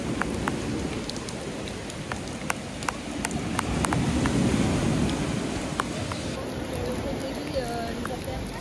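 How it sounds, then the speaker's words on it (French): Heavy rain from a thunderstorm at a beach in Martinique pours down in a dense, steady hiss with scattered sharp drops ticking close by throughout. "Il y a un peu trop d'orage là."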